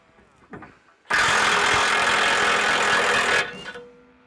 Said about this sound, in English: so we're just gonna take an impact and give it a couple ugga-duggas